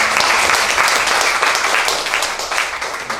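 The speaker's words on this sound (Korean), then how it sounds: "우리 찬양대회에서 한번 박수 한번 하겠습니다." A church congregation applauds the choir in a short, steady burst of many hands clapping together, close and even throughout.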